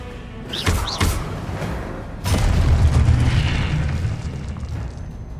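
Two quick thuds open, then a Confringo blasting curse from Hogwarts Legacy erupts in a heavy boom that rolls into a sustained low rumble and slowly decays.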